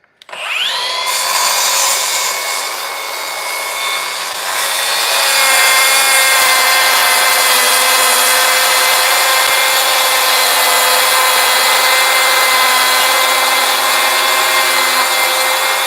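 A track saw cutting through wood in a workshop gives one long, loud, sustained whining cut after a sharp spin-up, its pitch steady and bright as the blade runs the full length.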